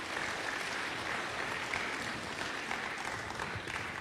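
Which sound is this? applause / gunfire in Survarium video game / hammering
applause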